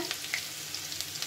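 Garlic frying in hot oil in a pan, a soft continuous sizzle with light crackles and faint stirring taps, close and quiet.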